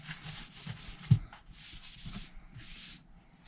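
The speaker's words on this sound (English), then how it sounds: "the last thing we're gonna do is just clean the speaker off, because you're probably gonna get drywall dust on your hands" A cloth rubs drywall dust off a newly installed Klipsch PRO-180RPW in-wall speaker, giving soft close wiping strokes in short bursts with one dull bump partway through, the room otherwise quiet.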